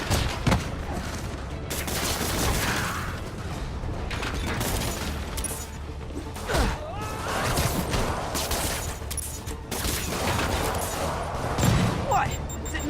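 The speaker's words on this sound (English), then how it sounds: "More rockets? A little excessive," Rockets firing in the video game Marvel's Spider-Man: repeated loud launches, booms and mechanical clatter in a chaotic boss-fight scene, with voices talking over the barrage.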